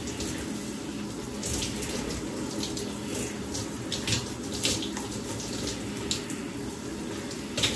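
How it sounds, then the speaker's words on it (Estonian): Shower running water, a steady hissing spray with small splashes and drips, fairly faint and continuous. "Shower time."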